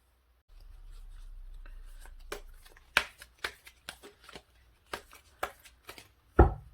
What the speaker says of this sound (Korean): 관계의 키워드에 대해서 카드를 뽑아보도록 할게요